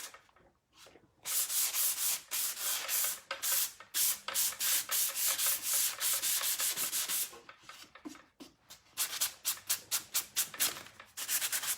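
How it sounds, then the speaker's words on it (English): Sanding pad lightly distressing painted furniture by hand, a series of quick rasping rubs in bursts with brief pauses between strokes, close and fairly quiet. "I have my sanding pad, and I am gonna just lightly go over this to distress it"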